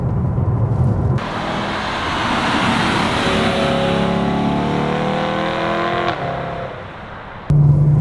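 A sports car in manual gear mode drives a hilly, winding road, its engine pulling in a loud, sustained drone that climbs steadily in pitch through the gears before easing off near the end.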